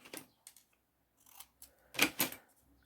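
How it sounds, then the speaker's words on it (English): Scissors snip paper scraps in a few short, close, crisp cuts separated by quiet pauses, ending with two louder snips. "Just cut that a bit more."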